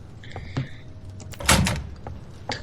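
A door in the Roblox game DOORS is pulled open, giving a short creak and a thudding clunk with a brief rattling scrape, over faint background noise.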